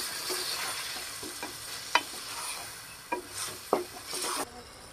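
Tomato pieces, coriander and curry leaves stirred in a hot pan for chicken bagara rice, a soft sizzle under scattered scraping strokes and a few sharper spoon knocks against the pan, close and fairly quiet with no talking.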